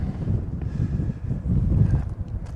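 Steady wind gusting across open ground near a copper mine with dust in the air, a continuous low buffeting rush that swells and eases, with no voices.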